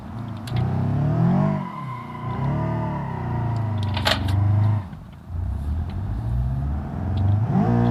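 The modded Raven R20 car in BeamNG Drive revs hard and repeatedly, its engine note rising and falling in sweeping surges, loud and close, with a brief dip in the middle before climbing again.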